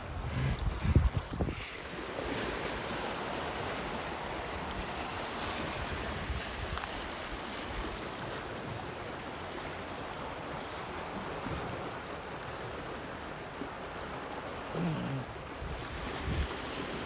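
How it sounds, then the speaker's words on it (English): Seawater surges into a tidal pool on the Brixham shoreline near Shoalstone, a steady broadband rush of waves and flowing water with wind noise, continuous and fairly loud over the whole stretch, with no talking. "We're going to watch the water go into the pool, aren't we?"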